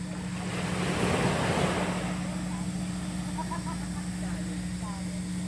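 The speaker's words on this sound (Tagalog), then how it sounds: "Ang bongga ng dagat, panalo." Steady roar of sea surf washing in over wind noise at a beach in Real, Quezon, Philippines, with people talking faintly in the background.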